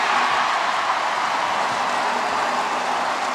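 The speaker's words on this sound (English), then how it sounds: "Listen to this crowd." A steady, loud roar from a basketball arena crowd during a women's Americas Championship final between Canada and Cuba, continuous and even without distinct claps or voices.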